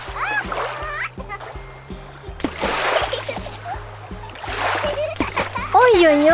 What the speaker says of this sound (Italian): Che bello saltare sulle onde!